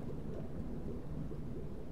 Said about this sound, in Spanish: ahora está lloviendo